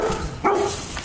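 A dog lets out a single short, fairly close bark over steady outdoor background noise.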